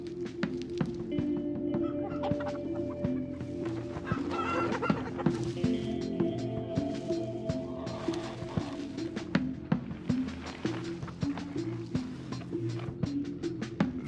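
Chickens cluck steadily inside a coop, with overlapping calls and scratchy movement forming a busy, continuous barnyard chatter at close range.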